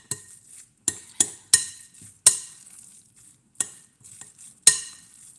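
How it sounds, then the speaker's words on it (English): A utensil mixes arayes meat mixture in a bowl, making sharp scraping and clinking strokes at an irregular pace, about eight distinct hits with quiet gaps between, alone with no voices. "mix this until you are satisfied that it is evenly mixed"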